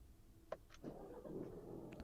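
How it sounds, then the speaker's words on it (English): A short mechanical click and whir, then an Alfa Romeo Giulia or Stelvio engine catches and settles into a low, steady idle close by. "let's start the car and see if it cuts on."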